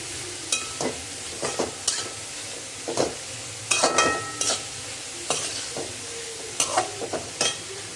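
Spring roll filling with black pepper gets stirred in a sizzling pan, a spoon scraping and tapping in irregular strokes over a steady low fry, close and clear with no talking.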